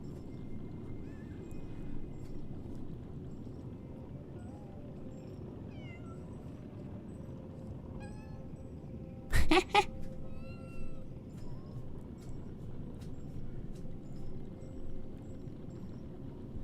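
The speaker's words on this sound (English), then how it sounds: "There you are, a small kitten." A small kitten meows in the video game Lies of P, a few short high cries standing out briefly over a steady low ambient hum of game background sound.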